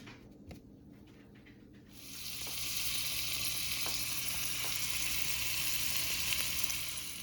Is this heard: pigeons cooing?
no